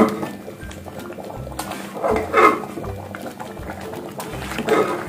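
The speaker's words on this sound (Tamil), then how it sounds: "இப்போ பாருங்கள் நல்லா கொதிக்குது" Rice water for donne biryani bubbles vigorously in a pot, a continuous burbling boil with irregular pops and surges, close and fairly loud.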